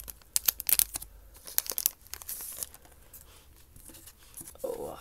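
Japanese Gym 2 Pokémon card packs are torn open, with sharp crinkling rips in quick bursts, close and loud, followed by quieter rustling and handling of foil wrappers.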